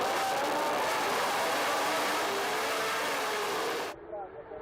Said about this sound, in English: Glorious engine noise. 3-litre, mainly V8 engines